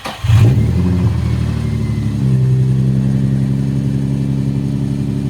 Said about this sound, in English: Cold start is a success.